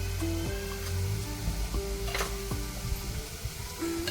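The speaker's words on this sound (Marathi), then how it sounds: "कढीपत्ता टाकणार आहोत त्यानंतर हिंग हळद" Curry leaves, asafoetida and turmeric sizzle in hot oil in a pan, a steady close frying hiss broken by a few scraping stirs and light metallic clinks of a utensil.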